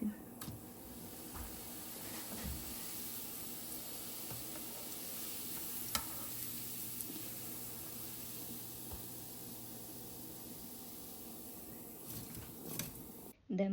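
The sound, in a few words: frying asmi rice-flour sweet in hot oil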